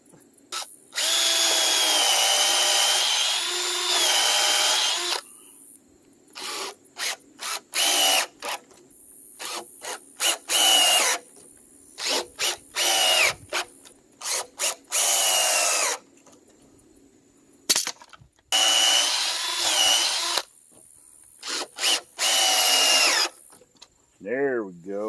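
Power drill driving screws into wood while building a well house, loud close bursts of whirring, each a few seconds long, broken by short pauses and quick trigger pulses.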